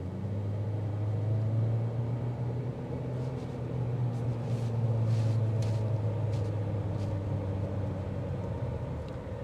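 A 2026 Chevrolet Equinox Activ FWD accelerates from about 30 mph, its engine a steady low drone with road rumble heard from inside the cabin, rising gently with no talking.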